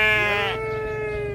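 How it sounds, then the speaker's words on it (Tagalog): Goats approaching let out a single loud, wavering bleat close by, a nasal cry that slides down and trails off in a sustained tone. "Mga kambing lumapit na."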